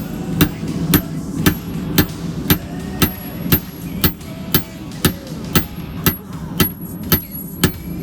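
Hammer blows on hot steel while flattening one end of a forged chisel, about sixteen sharp, evenly spaced ringing strikes, loud and close, with no talk.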